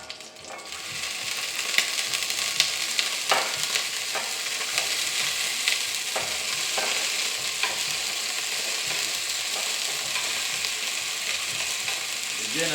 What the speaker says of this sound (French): lorsque l'huile sera à la bonne température, je vais y rajouter la saucisse